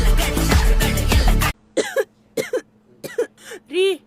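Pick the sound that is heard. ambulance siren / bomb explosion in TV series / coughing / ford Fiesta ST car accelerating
coughing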